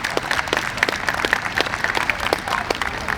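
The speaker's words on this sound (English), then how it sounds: "So round of applause for everyone who had donated on that day." A crowd at a groundbreaking event applauds donors, with dense, steady clapping from many hands sustained across the whole stretch at moderate loudness.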